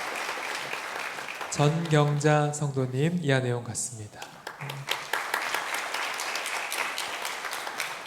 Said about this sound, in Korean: 동일하게 박수로 환영하겠습니다